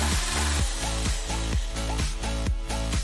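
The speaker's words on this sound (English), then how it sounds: "With an electric drill, put a hole right in the middle." An electric drill bores a hole through the middle of a metal tuna can lid, its motor whining steadily with repeated rising bursts as the bit bites, loud and close with no talking.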